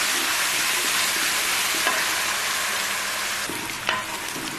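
Ginger garlic paste sizzles and fries in a pan with golden browned onions for a white lobia masala curry. The crackle stays steady and close, with occasional clanks of a stirring spoon and no speech.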